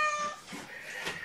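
A soft, high kitten meow, drawn out and a little wavering, heard up close in a quiet room.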